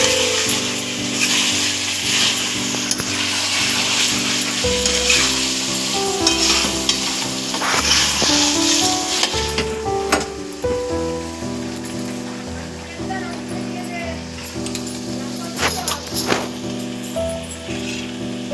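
Chicken kosha frying in a pan while being stirred, with a dense, continuous sizzle and spatula scraping, loud and close, under a tonal music bed.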